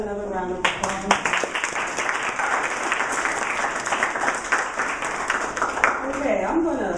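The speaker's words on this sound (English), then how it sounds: "Let's give everyone another round of applause." Applause from a gallery audience at an arts session, a steady round of many hands clapping close by that rises quickly and holds through the whole stretch, with voices mixed in.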